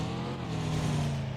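A vehicle in a competitive battle royale scrim game drives on with a steady, loud engine drone that holds an even low hum throughout, with no talk.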